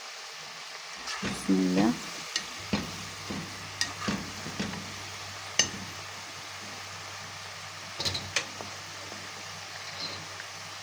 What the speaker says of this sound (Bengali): এখানে আমি চিপস ভাজি করতে আসি